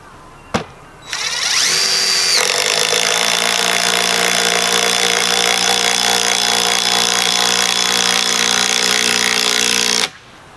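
A DeWalt DCF885 20-volt cordless impact driver drives a lag bolt, starting after a sharp knock with a loud, steady rapid hammering whir that runs unbroken for about nine seconds, then cuts off abruptly, close to the mic.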